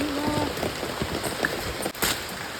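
Rain falls steadily in a garden with fig and guava trees, a soft continuous patter close by with no voices over it.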